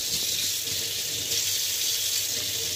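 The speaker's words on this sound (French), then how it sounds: "et on met uniquement de l'eau chaude" Hot water streams steadily from a tap into a greasy drain that is being unclogged, a constant hissing rush that stays close and even throughout, with no voices.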